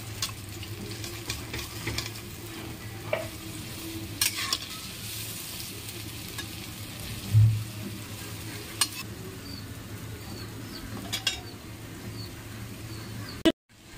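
Pointed gourd and lentil pakoras frying in hot oil give a steady, close sizzle with small bubbling crackles throughout, broken by a brief stirring clatter partway through, with no talk.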